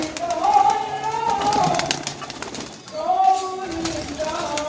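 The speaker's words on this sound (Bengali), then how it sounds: "একসঙ্গে অতগুলো পায়রাকে খেতে দেওয়া হচ্ছে" A crowd of pigeons in a breeding loft coo together while being fed, overlapping throaty calls rising and falling close by, with a brief lull midway before the cooing swells again.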